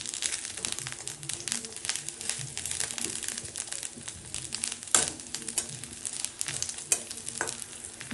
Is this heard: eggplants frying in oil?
yes